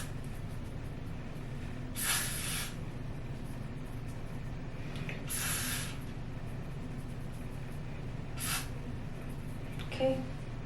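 Several short hissing bursts of a spray can used on a wig, spaced a few seconds apart, over a steady low background rumble.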